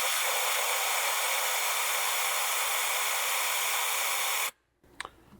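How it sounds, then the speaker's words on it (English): A coolant vacuum tool pulls vacuum on the cooling system of a 2018-2023 Volkswagen Atlas with the 3.6 engine, giving a loud, steady rushing hiss of air that cuts off abruptly near the end, followed by a faint click. "We're gonna go ahead and pull vacuum now."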